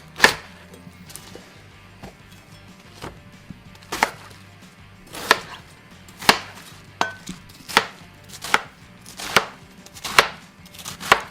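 A knife chops cabbage on a board for pickled vegetables (torshi), making about a dozen crisp, close thuds in an uneven rhythm, with quiet pauses between strokes and no voices.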